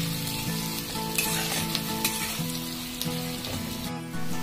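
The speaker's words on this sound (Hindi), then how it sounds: "प्याज को अच्छा गुलाबी होने तक भूनना है।" Chopped onions fry in a pan for street-style Amritsari paneer bhurji, making a loud, steady, close sizzle with light crackling throughout and no talking.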